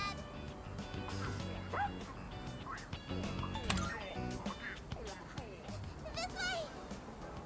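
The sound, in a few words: angry dog barking and chasing, from video game Persona 3 Reload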